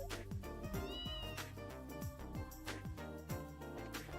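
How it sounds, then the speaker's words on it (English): Game cat meow from Trails in the Sky, a short mewing call heard over steady background music with percussive beats. "He's a happy cat."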